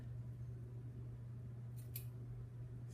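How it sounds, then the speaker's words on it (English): Scissors snip washi tape with two or three quick, faint cuts against a low steady background hum. "So then you can make another one of the squares and just snip"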